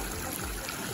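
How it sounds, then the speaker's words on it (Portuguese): Spring water gushing continuously from a natural source in Japan, a close, steady splashing rush of water with no voices. "Essa daqui é uma nascente. Aqui é água jorrando 24 horas."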